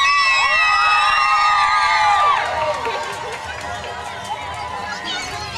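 The Meadville Little Gritters, a young cheerleading squad at a Halloween parade, shout cheers in loud unison with high children's voices, the chanting strongest at first and then fading into softer crowd hubbub.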